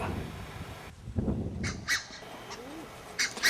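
Black-necked swans from South America, kept in a wildfowl collection, give a few short hoarse calls at moderate distance over faint outdoor background noise.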